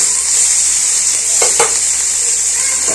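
Broccoli sizzles loudly in a pan over a high flame with a little salt, a constant hiss of frying broken by a couple of brief scrapes of stirring near the middle.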